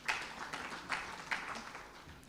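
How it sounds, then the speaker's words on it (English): Graduate students at a university orientation clap for themselves, a modest scattered round of applause sounding at moderate distance, with a few louder bursts across the short stretch. "So clap for yourselves."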